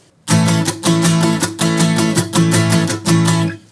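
Acoustic guitar strummed in a steady rhythm, a few full chord strokes with brief gaps between groups, loud and close with no voices.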